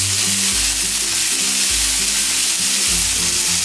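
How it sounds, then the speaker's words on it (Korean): Mung bean sprouts stir-fry with zucchini and garlic in a hot pan, a loud close sizzle with rhythmic scraping strokes of a spatula every second or so. "숙주를 넣고 몇 번 더 볶아주세요."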